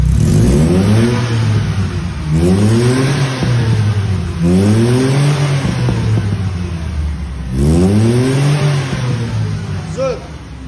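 A car with an aftermarket exhaust muffler revs loudly four times, each rise and fall of the engine roar clear and close, with a sharp whine near the end.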